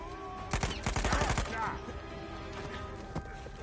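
A point-blank gunshot in the video game Uncharted 4 sounds as a quick cluster of sharp, close cracks, followed by a quieter stretch with a couple of faint later hits.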